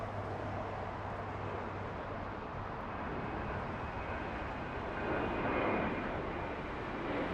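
A United Airlines Boeing 737 flies in to LAX from San Jose, Costa Rica, as a steady broad engine rumble that grows slightly louder and fuller near the end, with no one speaking.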